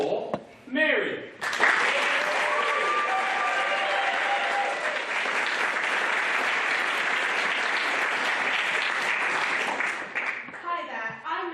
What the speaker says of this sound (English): please will you give a big round of applause for Mary